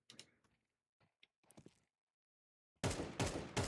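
Gunshots in a first-person shooter video game. Scattered faint clicks and taps come first, followed by a brief silence, then a loud, close burst of rapid fire that runs to the end without any talking.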